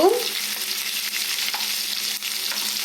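A tomato and green chilli curry sizzles steadily in a pan while a spoon stirs through it, with a few soft scraping strokes over the constant frying hiss and no talk.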